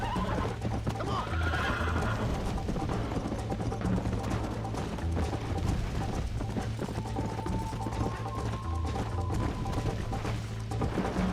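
Hooves clip-clop steadily while a horse neighs and whinnies in the video game Red Dead, set against a constant low hum and busy background noise.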